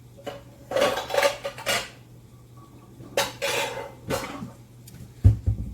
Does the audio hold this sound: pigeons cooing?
no